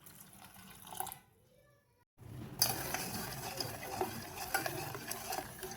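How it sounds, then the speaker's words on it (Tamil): Half a tumbler of water is poured onto broken palm jaggery in a pan on the stove, giving a splashing, sizzling rush that follows a short quiet gap and then continues steadily, with light clinks of a utensil. "இதில் தண்ணி ஒரு அரை டம்ளர் சேர்த்துக்கலாம்."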